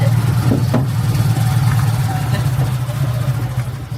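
Motorcycle engine idling steadily at a private resort entrance on Bantayan Island, a close, continuous low rumble that holds an even level for the whole stretch.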